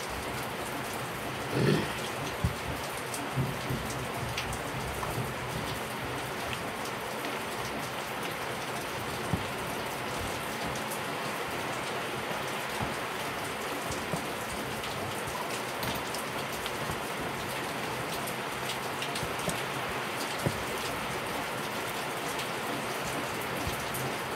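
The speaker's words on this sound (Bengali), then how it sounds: "বৃষ্টি পড়ছে" Steady rain pours down on a surface, a dense, even patter that continues without a break throughout.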